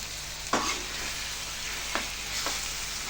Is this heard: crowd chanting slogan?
no